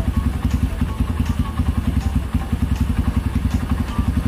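A Kawasaki Barako motorcycle engine, one with a worn clutch housing bushing, idles nearby with a quick, regular pulsing thump and a faint rattle in each beat.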